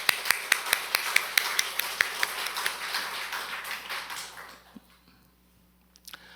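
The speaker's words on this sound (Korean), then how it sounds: "박수로 영광 드리겠습니다." Church congregation at a 23rd-anniversary Sunday service clapping, starting with regular rhythmic claps that blur into a thinning wash of applause and fade away, with a few stray claps at the end.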